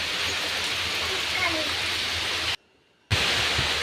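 Steady broadband hiss of rain pouring down outdoors during a sudden monsoon shower, loud and continuous, broken by a brief gap of silence before resuming.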